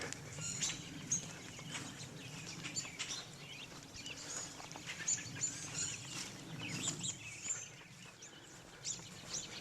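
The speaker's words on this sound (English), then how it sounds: "as you may be able to tell, there's a lot of birds here" Many birds call and chirp across a wildlife refuge bird sanctuary, a steady chorus of high twitters and tweets over low wind and ambient rumble, fairly distant with no one talking.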